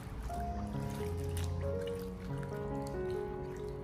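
Hand-torn cabbage is rinsed in a basin of water, with soft, continuous trickling, dripping and squishing sounds at moderate level and no speech.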